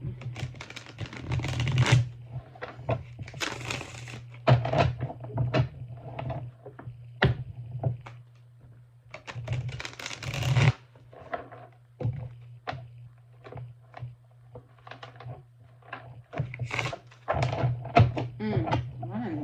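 Repeated crisp riffling and card-snapping bursts from a deck being shuffled, close by, with a steady low hum underneath and occasional soft knocks.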